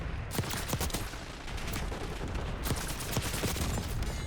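Nail gun firing in Call of Duty: Black Ops 6, a rapid, continuous stream of sharp, loud snapping shots sustained throughout.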